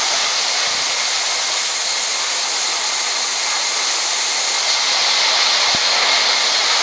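Jet airliner engines spooling through takeoff in the Real Flight Simulator game: a steady, loud, broadband roar and hiss that holds unbroken for the whole stretch, with no voices.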